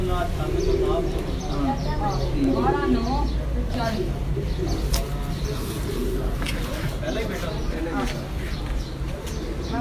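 Pigeons cooing in soft, throaty repeated calls close by, mixed with someone talking and some shuffling movement.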